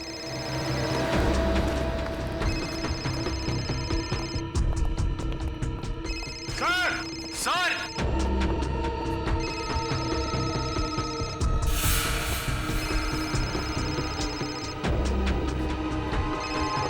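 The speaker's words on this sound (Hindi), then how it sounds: "फोन तो यहीं पे बज रहा था ना" A mobile phone ringtone plays repeatedly amid background music and noise, while people call out loudly over it.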